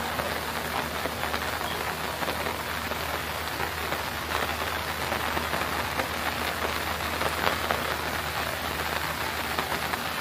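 Steady rain falls beside a temple surrounded by areca nut plantations, a dense, even hiss of drops hitting surfaces throughout, moderately soft and with no pauses.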